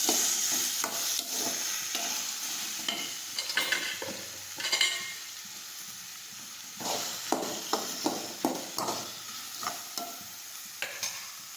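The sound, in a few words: sautéing chopped sponge gourd with asafoetida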